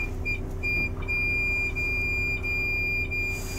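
A car's warning chime beeps to prompt engaging neutral gear, with short, thin electronic tones repeating at irregular intervals over a low, steady hum inside the vehicle.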